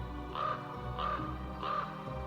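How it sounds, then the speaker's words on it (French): Crows caw in three evenly spaced calls, each a harsh, nasal burst, set against a steady low background hum with no voices. "Depuis, seuls les corbeaux chantent sous ses branches."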